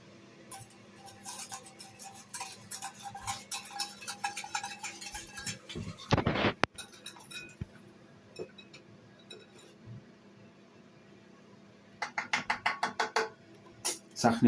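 Creme brulee custard being whisked in a bowl, with rapid metallic clinks and taps against the bowl coming in quick rhythmic bursts that pause and restart, fairly close and moderately quiet.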